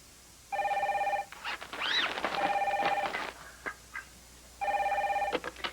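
An old-style telephone rings in steady trilling bursts, two clear rings separated by a stretch of other faint sounds and clicks, close and moderately loud.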